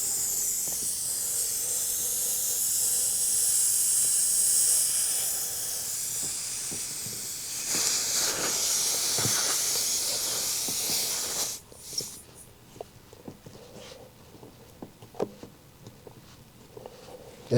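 Air hisses steadily out of a leaking flat tire, close and loud, then cuts off abruptly, leaving faint scattered knocks and taps.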